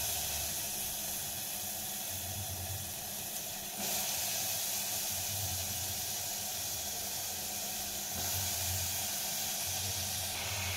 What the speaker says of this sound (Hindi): अब हम इसमें डाल देंगे अपने आलू और मटर जो हमने पानी में भिगो के रखे हैं।